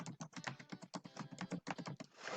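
Rapid, steady keystrokes clatter on a computer keyboard while text is entered into a nutrition facts label template, close and fairly quiet with a busy, uneven rhythm and no talking.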